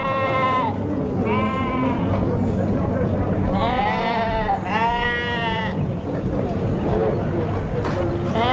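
Sheep at a 1977 West Country sheep fair bleat repeatedly, several loud wavering calls close by over a crowd murmur of talk and livestock noise.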